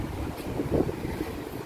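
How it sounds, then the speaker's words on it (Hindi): Strong wind blows near a flyover, a steady low rumble with gusty buffeting against the microphone and no clear voices. "ये देखिए कितनी तेज हवा है"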